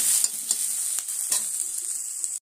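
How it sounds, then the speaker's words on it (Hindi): Food frying in a little oil in a pan while cooking poha, a steady close sizzle with occasional stirring scrapes, fading out abruptly at the end. "तो मैं डायरेक्ट ही तेल हल्का ही डाला, डायरेक्ट ही इसे फ्राई करता हूँ"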